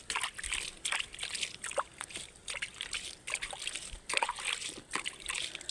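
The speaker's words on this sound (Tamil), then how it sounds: "தண்ணி ஊற்றிக்கலாம்." Water is poured onto a seed bed in uneven sloshing and trickling splashes, close by and fairly continuous, with brief pauses between pours.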